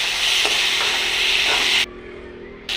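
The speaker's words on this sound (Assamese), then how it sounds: "এয়া বিলাহী ভাজিছোঁ" Tomatoes fry in a pan with chili, garlic and onion, a loud close sizzle with stirring scrapes that drops away suddenly near the end, then briefly returns.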